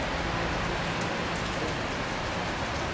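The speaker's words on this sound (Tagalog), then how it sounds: "sobrang lakas ng ulan" Heavy rain pours outside a store, a dense steady hiss of drops on surfaces, loud and unbroken throughout with no voices.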